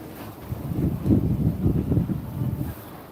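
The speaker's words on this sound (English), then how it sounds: "It's getting pretty windy." Gusty wind at a seaport buffets the microphone with a low, surging rumble that swells and eases over a few seconds, loud and close, with no talk.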